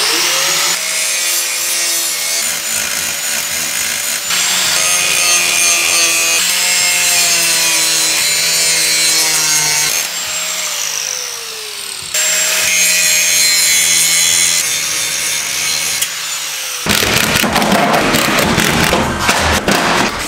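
Angle grinder grinding down a fracture on a BMW E46 M3 subframe ahead of welding: a loud, continuous high-pitched whine that shifts in pitch as load varies, ending in a rougher, harsher scraping grind, with no talk.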